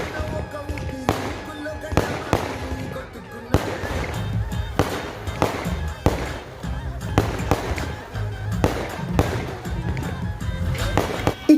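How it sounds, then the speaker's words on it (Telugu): At a saree ceremony celebration, fireworks burst overhead in a rapid series of sharp, loud bangs spaced a second or so apart, with crowd noise and voices between the blasts. "అదిత్రి ఫంక్షన్ ఫైనల్ టచ్లో ఆకాశంలో బాంబులు పేల్చారు."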